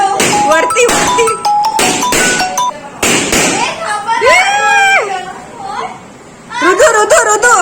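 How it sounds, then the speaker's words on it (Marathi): Firecrackers go off at a child's birthday celebration during Ram Navami, with sharp bursts and whistling, crackling trails among excited children's voices and adult chatter throughout. "फटाके फटाके"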